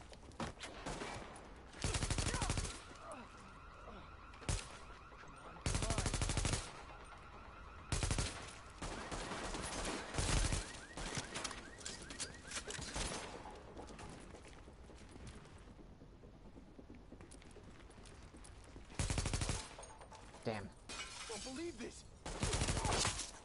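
Gunfire in The Division video game comes in loud, clustered bursts of rapid shots separated by quieter stretches of ambient game noise over about twenty seconds.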